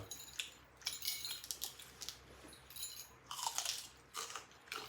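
Someone eating boiled spicy instant noodles with pork ears, giving close, quiet crunching and chewing with small clinks of cutlery and bowl in uneven bursts.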